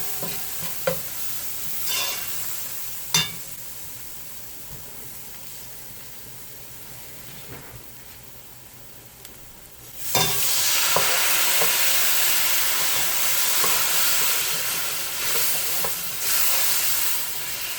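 Curry duck mixture with green seasoning and garlic hits a hot pot and sizzles loudly and steadily from about ten seconds, after quieter clinks and soft stirring.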